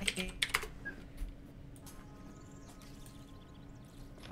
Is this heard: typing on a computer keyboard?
yes